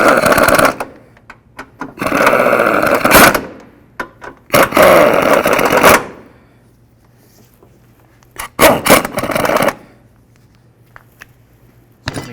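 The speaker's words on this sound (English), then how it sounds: "Make sure these are tight using our ratchet." A ratchet is worked on bolts of a transmission mount on a 2007-12 Nissan Altima, giving loud bursts of rapid clicking in separate runs of about one to two seconds, separated by quiet gaps, with no talk.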